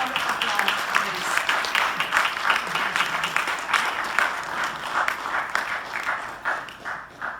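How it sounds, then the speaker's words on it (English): An audience applauds steadily, a dense wash of many hands clapping that continues throughout and tapers off slightly at the end. "Round of applause, please."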